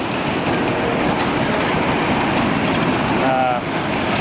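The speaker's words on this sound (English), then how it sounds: "They got a train running through the park." A small amusement park train at Camden Park in West Virginia runs past in 1995, a steady loud rumble and rattle of wheels on track with a faint squeal near the end, while people talk beneath it.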